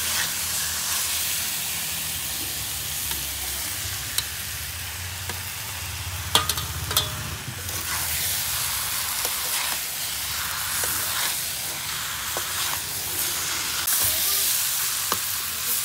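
Pointed gourd (potol) with spices sizzles in a pan as a steady, close hiss, broken by a few sharp clatters of stirring around the middle, with no one speaking.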